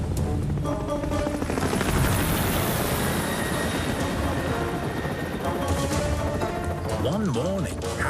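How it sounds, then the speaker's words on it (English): Harold the helicopter from the Thomas and Friends cartoon flies near Callan Castle, with a steady rotor drone and music blended underneath, and a brief warbling effect near the end. "Harold the helicopter was rescuing some climbers from the rocks near Callan Castle."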